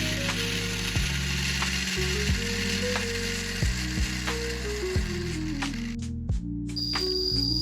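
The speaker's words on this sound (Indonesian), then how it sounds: "Kita menggunakan mesin blender untuk menghancurkan kelapanya." An electric blender crushes coconut with water, making a loud, continuous grinding whir whose pitch repeatedly drops and rises as the chunks churn. No one speaks.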